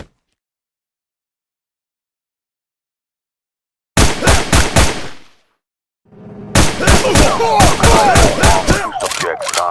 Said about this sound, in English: Shots fired at the corner store.